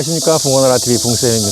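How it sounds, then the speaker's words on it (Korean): A dense, constant high buzzing of many cicadas fills the air at a fishing pond in Gongju in August, loud and unbroken beneath someone speaking close by. "매미 소리가 엄청나게 많이 들리고 있습니다"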